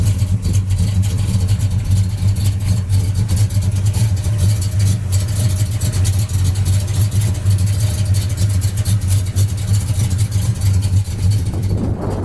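Red 1968 Pontiac GTO convertible running through a dual exhaust, a steady deep low rumble held close and loud throughout, with a slight rise in revs near the end.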